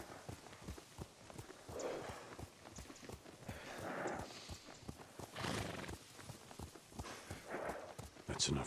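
Horse hooves clip-clop at a steady trot in Ghost of Tsushima, with occasional neighs and whinnies rising over the galloping rhythm, while voices talk over the riding throughout.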